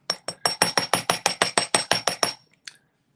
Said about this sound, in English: And do a good amount of hammering so that a flat surface appears.